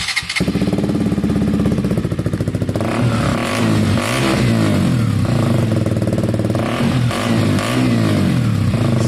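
A KTM 125 motorcycle engine fitted with an aftermarket Black Widow exhaust fires up and revs loudly with a deep, throaty, popping exhaust, rising and falling in pitch close by, no talking.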